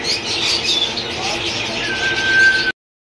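A breeder pair of blue ringneck parakeets at a busy Sunday bird market gives off steady, bright chirping and chattering calls that merge with other birds around them.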